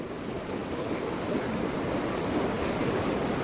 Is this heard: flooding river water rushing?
yes